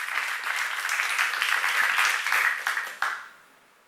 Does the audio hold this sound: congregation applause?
yes